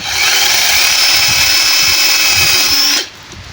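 A power drill bores a hole through scrap PVC pipe while a DIY cutting-board handle is being made, a loud, steady high whine that holds for about three seconds and then stops abruptly.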